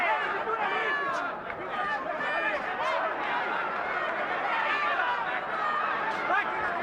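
Crowd at the 2002 Mayweather vs Castillo boxing match reacting to a punch, a steady roar of cheering and chatter with a commentator talking over it.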